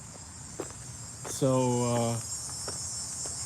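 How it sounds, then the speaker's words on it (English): Cicadas in a front garden in late summer give a loud, buzzing drone that swells and fades over a couple of seconds, over a steady background hum, with a brief spoken word. "cicadas finally going."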